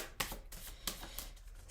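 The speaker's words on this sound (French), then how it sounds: "Je tire une dernière carte de conseil." A tarot card is drawn from a deck: a few quiet papery slides and flicks, close and faint, alone with no voices.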